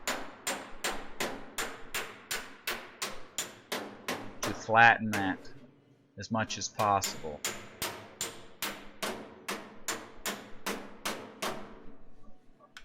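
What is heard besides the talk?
hammer on dolly bodywork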